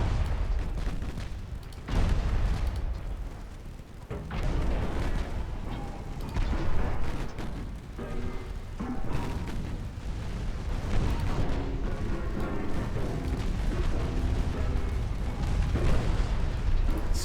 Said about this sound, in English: Torpedoes coming out.